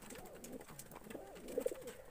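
Pigeons, including young birds of Zeera, Slate and Jansara Deewana breeds, coo in soft repeated low phrases, close by, with faint background noise and no talking.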